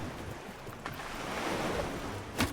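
Ocean waves washing steadily while a ship sails toward open sea in Bannerlord War Sails, a continuous hiss of surf and wind with a brief sharper splash near the end.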